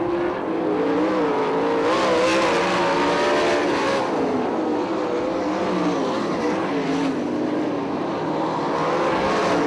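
Sprint cars racing on the dirt oval at Crystal Motor Speedway, a loud, continuous pack of high-revving engines whose pitch rises and falls as the cars power through the turns and straights.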